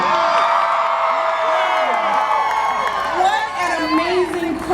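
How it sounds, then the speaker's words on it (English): A large crowd at a Philadelphia presidential campaign rally cheers, whoops and shouts in a loud, sustained roar of many voices, with scattered clapping and rising and falling peaks. "What an amazing crowd,"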